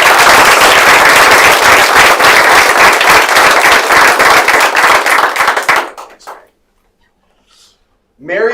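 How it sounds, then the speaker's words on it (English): An audience at a school district board meeting gives a round of applause, loud dense clapping that ends abruptly partway through, followed by near silence and then a voice speaking. "Give her a round of applause."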